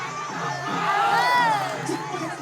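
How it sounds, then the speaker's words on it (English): Crowd at a Muay Thai tournament bout roars and cheers steadily, swelling to a louder peak mid-clip with whoops and high shouts above the dense noise. "90 seconds to go, the crowd roaring him on"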